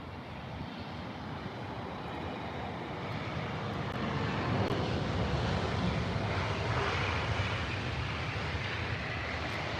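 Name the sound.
Airbus A319 from Faro landing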